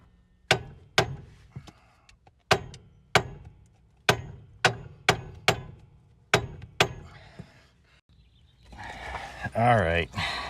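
Hammer strikes on a stuck cotter pin in a 1982 Dodge Rampage, about a dozen sharp metallic whacks in an uneven rhythm, close and loud, followed by a brief burst of a voice.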